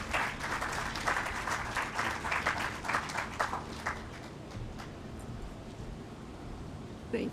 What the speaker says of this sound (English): So please give a round of applause for Reverend Dr. Lo Sprague.